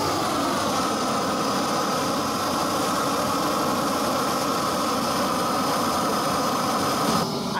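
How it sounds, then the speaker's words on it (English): A large Harbor Freight Greenwood propane torch burns with a steady, loud, unbroken roar, close by and with no other sounds over it. "So I needed a big propane torch for this job, and it's definitely gonna work."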